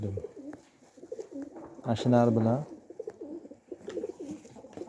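A Dumuqora pigeon coos loudly and close, one rolling throaty call in the middle, while someone talks before and after it.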